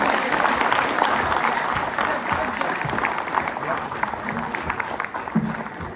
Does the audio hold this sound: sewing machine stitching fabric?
no